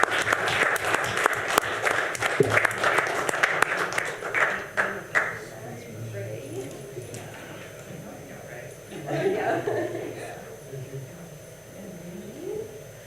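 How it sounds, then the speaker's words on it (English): A council meeting audience applauds a group being presented with certificates, with sharp scattered claps in the first few seconds that fade out. Murmuring and talk continue underneath. "if everyone can give a round of applause and thanks for them"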